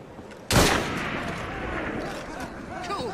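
Gunfire in the video game Assassin's Creed Syndicate: one sharp, loud shot cracks out, then a rumbling tail and scattered fainter firing follow, with a voice speaking over the din.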